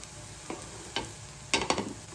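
Soybean tikki frying in oil in a pan over medium gas, with a steady sizzle underneath and four or five brief scraping or stirring bursts near the end, close and moderately loud, no talk.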